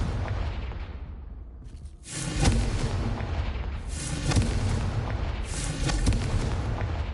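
Loud Confringo spell explosions in Hogwarts Legacy: a quieter opening, then three heavy booming blasts at roughly even intervals, each with a long rumbling tail and no talk over them.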